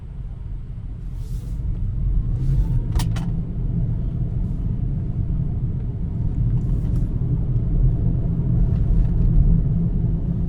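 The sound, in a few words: Tesla Model 3 Performance car driving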